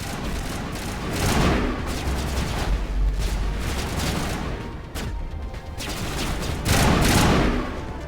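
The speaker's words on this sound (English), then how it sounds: "did he just shoot him in the side?" Gunfire in the Mass Effect video game comes as a loud, continuous flurry of shots and booming blasts, with surges of heavier bursts over a dense battle din.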